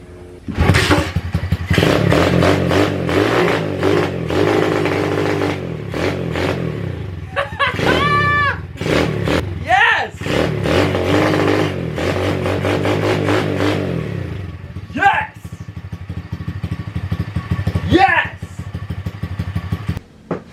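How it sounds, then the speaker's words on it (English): A motorcycle is kicked over and fires up loud and close, with a rapid rumbling engine run, several throttle revs and dips, and people talking in the short pauses between bursts. "we're gonna kick this bike over and we're gonna start it"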